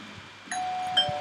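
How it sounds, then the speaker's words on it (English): A doorbell rings in the Roblox Bloxburg game, a bright electronic two-tone chime with a sustained ringing tail, clear and close against quiet background. "Ringing the doorbell."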